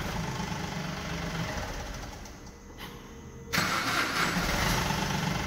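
A Chevrolet Beat diesel car engine, after a heater timer fix for a cold start problem, cranks briefly and then catches, jumping to a steady, loud, close idle with a knocking diesel clatter.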